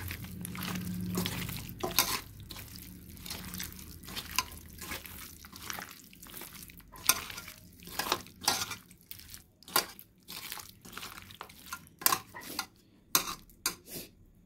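Mutton pieces are worked by hand with mustard oil in a bowl. The mixing makes a quiet run of wet squelches and soft clinks in an irregular rhythm, close by and with no talking.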